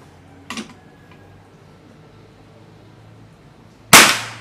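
An air rifle is test-fired in a gun shop, a sharp shot early on, a faint click, then a much louder, nearer shot with a short decaying tail near the end, no talking.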